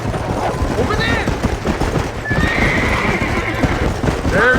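Horses in the Red Dead Redemption video game clopping along with steady hoofbeats, breaking into a few shrill whinnies and neighs, with game sounds and a voice in the background.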